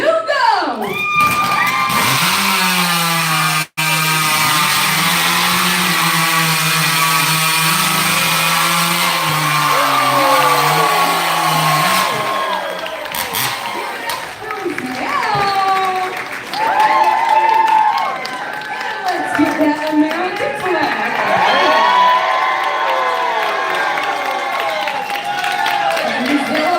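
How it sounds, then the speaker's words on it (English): A loud crowd at a lumberjack show in Alaska cheers and shouts continuously during a sawing event, with whoops and applause rising and falling over a mechanical roar, voices calling out throughout. "Cheer your competitors on loudly, folks"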